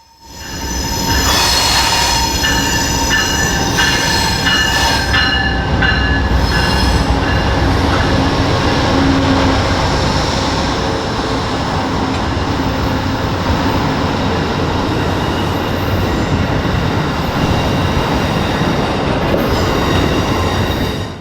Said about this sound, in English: the westbound Lakeshore Limited. Today's train would have a couple treats on it for us. Leading the train is Amtrak number 110 and number 184